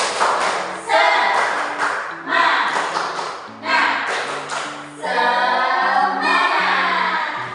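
A school class chants a spirit cheer together during a teaching-practice lesson, the chorus of voices broken by repeated bursts of rhythmic group clapping that stop and restart across the phrase.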